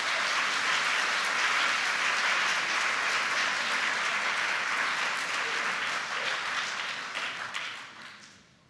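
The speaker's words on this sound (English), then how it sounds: "Let's give these seventh graders a round of applause." Audience applause for seventh graders at a middle school awards day, a dense, steady wash of many hands clapping that holds strong for several seconds, then thins and fades out toward the end.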